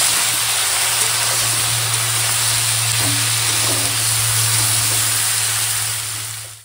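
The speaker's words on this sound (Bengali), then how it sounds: "দিয়ে সবজিটা কষিয়ে নেব মশলার সঙ্গে" Pumpkin greens and ridge gourd sauté with turmeric, chili powder and green chili, giving a loud, even, unbroken sizzle over a low steady hum, close up.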